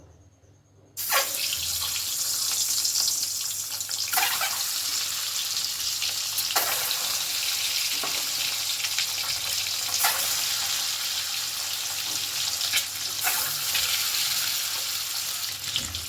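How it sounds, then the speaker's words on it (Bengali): Eggs frying in mustard oil in a hot wok give a loud, steady sizzle that starts abruptly after a short pause and keeps hissing evenly throughout, with a few sharper crackles and no voices. "উল্টে পাল্টে ডিমগুলোকে ভেজে নেব"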